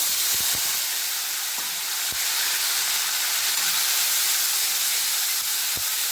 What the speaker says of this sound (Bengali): তেলের মধ্যে দিয়ে দিচ্ছি আমি গোটা গরম মশলা আর একটা তেজপাতা দিয়ে দেবো